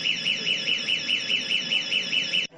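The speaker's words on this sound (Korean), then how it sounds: "피해 여성이 누른 비상벨에서 경보음이 울렸습니다" An emergency bell alarm rings loudly and close with a rapid warbling electronic tone repeating in even pulses, then cuts off abruptly near the end.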